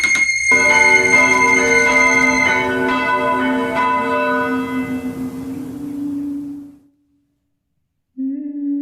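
A chapel bell in a radio play drama strikes once, loud and close, its rich ringing tone fading slowly over several seconds into silence before another tone starts at the very end.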